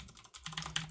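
Quiet, quick keystrokes on a computer keyboard, a short burst of soft clicks lasting about a second.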